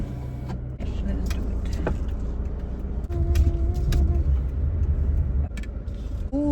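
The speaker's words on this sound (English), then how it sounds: "I'm about to pull my car in." A car is driven and pulled in on a hot day, its engine rumbling steadily close by with a few clunks and mechanical shifts, while someone talks briefly over it.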